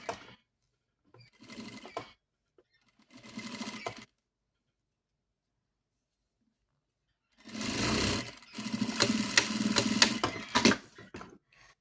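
A sewing machine stitches fabric for a small pair of trousers, running in two brief bursts, then a pause, then a longer steady whirring run, close by.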